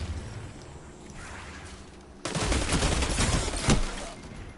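Rapid gunfire bursts from a gun in a console shooter video game erupt about halfway through and continue in dense, loud volleys over busy game noise to the end.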